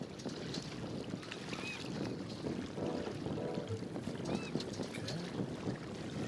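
Sailing a boat across water in the VR video game Big Breezy Boat, with a steady wash of water and wind noise running throughout, a single word spoken briefly over it.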